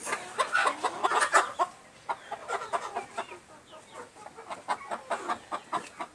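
Backyard laying hens about a year old, kept in a coop, cluck in short, uneven bursts, some louder and closer, with soft murmuring between calls.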